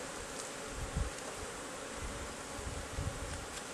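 Honey bees at an open hive produce a steady, close buzzing drone throughout, feeding along honey-smeared top bars, with occasional louder low thumps.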